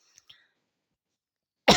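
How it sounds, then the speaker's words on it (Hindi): A single loud, harsh cough from a teacher during a physics lesson bursts out at the end, after near silence broken only by two faint breathy sounds. "थोड़ा ज़्यादा खांसी आ रहा है।"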